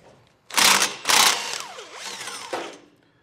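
A ratchet works loose the two 13mm nuts on the exhaust flange of a 2022 Chevrolet Malibu, giving two loud bursts of rapid clicking followed by quieter scraping and a final short click run, close up with no talk.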